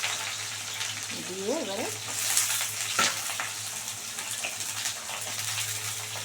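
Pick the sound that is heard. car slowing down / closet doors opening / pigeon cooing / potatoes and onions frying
potatoes and onions frying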